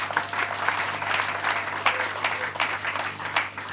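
A funeral crowd applauds at the obsequies of a colonel, a dense, continuous clapping that stays steady and loud for the whole few seconds.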